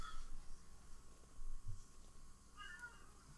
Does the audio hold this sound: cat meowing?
yes